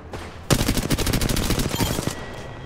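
Rapid automatic gunfire in the video game Apex Legends, a loud close burst of rattling shots lasting about a second and a half after a brief quiet lead-in.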